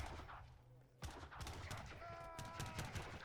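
Musket volleys crackle in Age of Empires II as two musketeer armies clash, a dense run of sharp shots and battle noise beginning abruptly after a quiet second and continuing steadily, with a faint tonal game sound layered in partway through.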